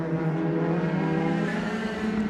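A BMW DTM race car at Hockenheim in 2014, heard from on board, holds a loud, steady engine drone at high revs with dense harmonic buzz throughout and no talk over it.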